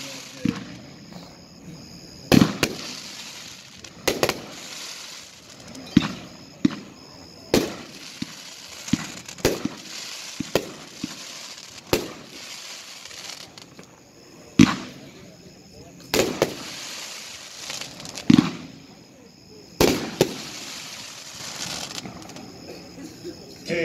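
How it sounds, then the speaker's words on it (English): A Cutting Edge Caged Animal 21-shot firework cake fires a series of sharp, booming bursts at irregular intervals, each followed by crackling tails, heard from a moderate distance over a murmuring crowd. "Number 21, Cutting Edge's Caged Animal. A 4-1 pack, 21 shot."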